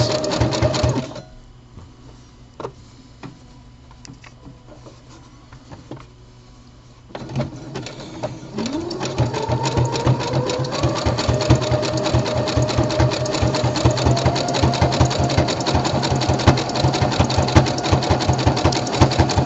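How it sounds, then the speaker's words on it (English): Serger sewing machine top stitching fabric with a decorative stitch, starting with short bursts and pauses, then settling into a steady rapid mechanical chatter that runs close and continuous. "when you top stitch with the decorative stitching, you kind of have to go a little slower than you normally would with sewing"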